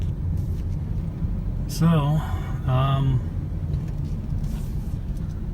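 Steady car engine and road rumble from a drive on the road out of Bar Harbor, Maine, a constant low hum running throughout while someone speaks briefly in the middle.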